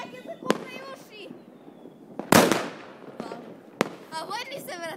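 New Year's Eve firecrackers go off nearby: a loud, broad blast in the middle, flanked by two sharper cracks, while several voices talk and shout around them.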